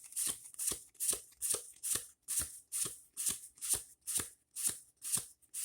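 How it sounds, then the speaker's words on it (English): A deck of Magic cards counted off one by one, giving a brisk, even rhythm of soft riffling snaps, about two per second, quiet and close with no talk. "So let's count our deck."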